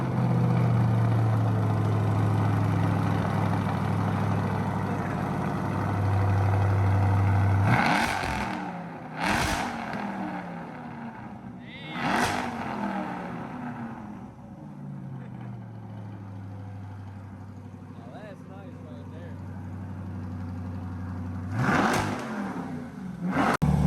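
A C8 Corvette Stingray with a 6.2L V8 and an MRT exhaust settles into a deep, burbling idle, broken by several sharp, loud rev blips spaced through the run.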